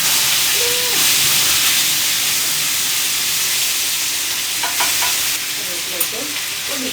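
Onion tossed onto curry leaves in hot oil, sizzling loudly and continuously close by while a spoon stirs with occasional scraping clicks, no voices.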